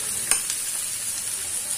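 Onions frying in about three spoons of hot oil in a pan for a groundnut onion curry, a steady bright sizzle with a sharp scrape or clink of the spoon early on and a few softer taps after.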